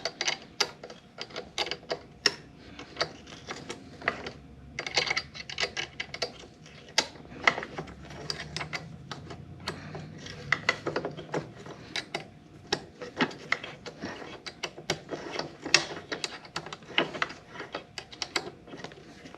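Allen keys turning and clicking against a metal bracket on a KOMOTO X1500 electric snow scooter during a hand-tool track install: a steady run of small sharp ratcheting ticks and scrapes, close by, with no voices.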